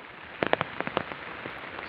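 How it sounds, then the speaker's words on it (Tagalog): Steady rain falls on a vegetable garden, with a soft hiss of drops and a brief cluster of sharper, louder splats near the start. "Tuloy-tuloy pa rin ang pag-ulan dito po sa atin."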